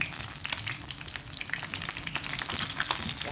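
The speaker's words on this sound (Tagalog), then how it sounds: "Tumatalsik. Ayan. Chicken fry." Chicken frying in a pan with oil splattering, a close crackling sizzle with sharp popping spatters scattered throughout.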